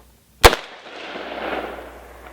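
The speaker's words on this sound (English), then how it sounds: "I'm just going to run 2 through the pistol" A single sharp pistol shot of 300 AAC Blackout subsonic reloads with 245-grain lead bullets rings out after a brief silence, followed by a decaying outdoor echo.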